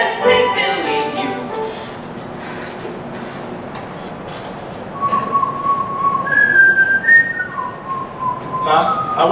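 A person whistles a tune from a stage musical, sustained clear notes rising and falling over a noisy hall background, fairly close and loud.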